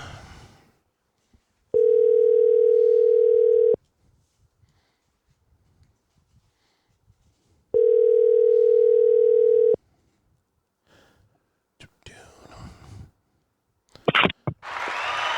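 Two long, steady telephone dial tones, each about two seconds, sound with silence between them, followed by faint noises and brief bursts of voice near the end.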